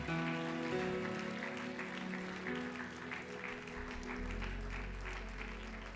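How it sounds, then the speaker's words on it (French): A church congregation claps and cheers continuously in praise of the Lord, a dense steady applause over sustained music and voices. "Oh, on peut encore l'acclamer"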